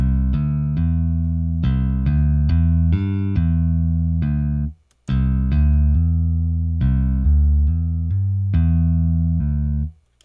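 An EZ-Bass software electric bass plays a steady melodic phrase of distinct notes with standard picking, a brief pause in the middle, then the phrase resumes to the end.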